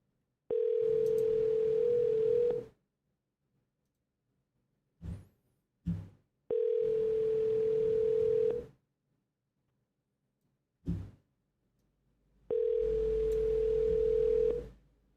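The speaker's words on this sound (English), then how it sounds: "So we're going to triple dial Maggie is what we're going to do" A telephone dial tone for a business call, a steady loud tone in three long stretches broken by brief clicks of dialing and line pickup, with no voices.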